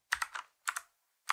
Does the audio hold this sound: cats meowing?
no